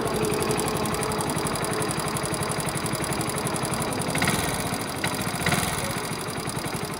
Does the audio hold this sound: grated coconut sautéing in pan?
no